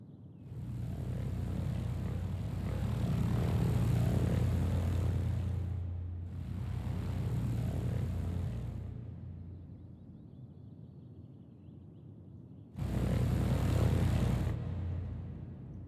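Helicopters in the city-building game Cities: Skylines fly back to a helipad, a steady droning rotor-and-engine roar that swells and fades in three long bursts with brief gaps, no talking over it.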